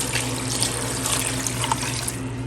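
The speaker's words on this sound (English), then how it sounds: "about 4 cups of water." Water is poured into a pot with broth and pasta, a steady close splashing rush that runs the whole time with no break and no voices.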